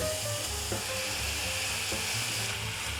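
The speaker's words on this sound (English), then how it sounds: "Now we add in our corn, then your tuna." Onion, corn and tuna frying together in a pan, a dense, even sizzle close up with faint low clunks of stirring, no voices over it.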